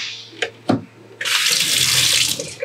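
Water runs from the kitchen sink faucet of a 2021 Pleasure-Way Plateau TS camper van, a few clicks of the tap handle giving way to a steady, close, full hiss of flowing water.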